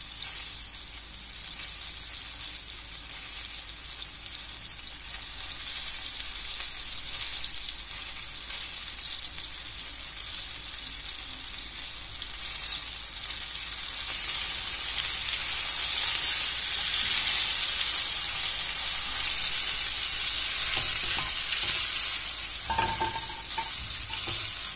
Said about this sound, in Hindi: इसी तरह हम सारे प्रॉन्स को फ्राई कर लेंगे।